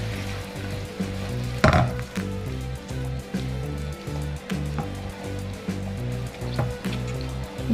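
Vegetables with mushroom broth stirred in a frying pan, a soft sizzle and wet scraping under a steady background hum, with one sharp clatter near the start.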